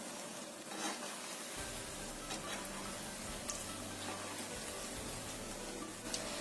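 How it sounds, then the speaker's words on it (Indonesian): Snacks frying in oil in a wok over a moderate flame, giving a steady, moderately close sizzle throughout with faint stirring ticks and no talk. "Goreng sampai kuning keemasan sambil sesekali dibalik."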